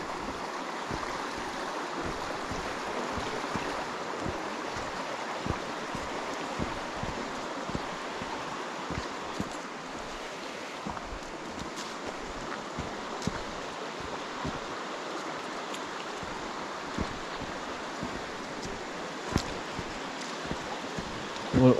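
A burn near Haltwhistle flows with a soft, constant rushing and babble of water, steady at a moderate distance, with occasional small rustles and clicks over it.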